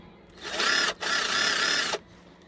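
Cordless impact driver running in two bursts, each about a second long with a short gap between, a steady high whirring buzz at close range with no talk over it.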